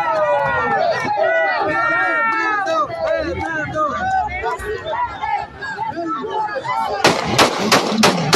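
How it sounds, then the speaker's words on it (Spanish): Gunfire within a played news video, sharp loud cracks bursting out near the end over a dense background of shouting, crowd noise and speech. "aquí en este video todavía no queda claro de dónde vienen los disparos"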